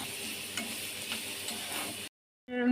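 Capsicum and carrot fry in butter in a pan with a steady, close sizzle and faint stirring ticks, cutting off abruptly before a brief return.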